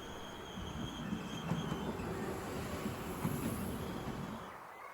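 An ICE high-speed train rushes through Burgsinn station, a steady roar of wheels and rail noise with faint squealing, sustained and fairly distant before fading out at the end.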